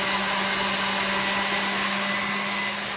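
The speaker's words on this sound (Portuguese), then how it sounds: "Aí aqui nós vamos ligar a batedeira. E vai bater até formar um creme meio esbranquiçado" An electric stand mixer whips chocolate mousse cream, a steady loud motor whine with a constant hum, running continuously without pause.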